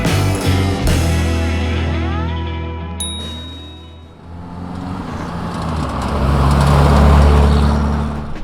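A Tesla Cybertruck drives through a desert town in Arizona, its steady road and motor noise rising and falling loudly and up close, with a brief bright ding partway through.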